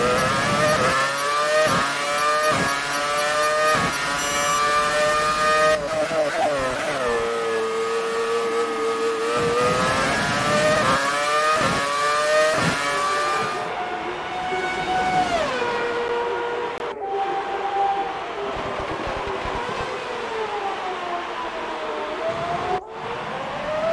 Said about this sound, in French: je vous laisse un petit peu profiter du son de la Ferrari